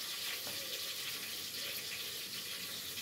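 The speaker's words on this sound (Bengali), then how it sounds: "কাটা পেঁয়াজগুলো দিয়ে দিলাম মাংসের জন্য" Chopped onions meet hot oil in a pressure cooker for a meat dish, giving a steady, faint, hissing sizzle with no talking.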